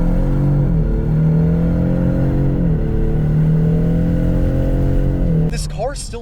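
A 2024 Ford Mustang EcoBoost with a 2.3-liter inline turbo engine runs at a steady, close, droning idle-like hum. Slight pitch shifts run through it, and it ends with a brief rising rev as the sound fades.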